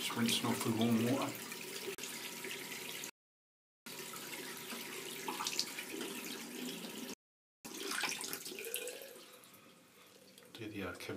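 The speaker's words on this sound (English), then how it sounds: "Just rinsing off with warm water." A tap runs warm water for rinsing in a sink, a steady close splashing stream with shifting trickles, broken by two brief silent gaps, while a voice talks over it at moments.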